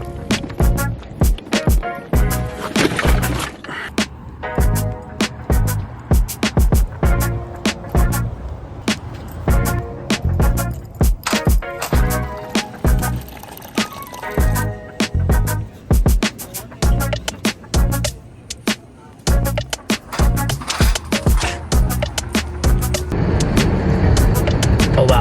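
A car drives through morning traffic on Virginia roads, with a steady road rumble inside the cabin and frequent sharp clicks and rattles over it throughout.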